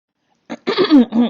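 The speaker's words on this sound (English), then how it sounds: "Clearing her throat." A woman clears her throat once, close and distinct: a short rasp after brief silence, then a longer two-part guttural rumble.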